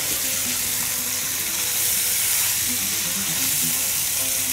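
Meatballs being stirred through tomato sauce in a frying pan, giving a steady, close sizzle with soft bubbling and faint stirring scrapes throughout, with no talking.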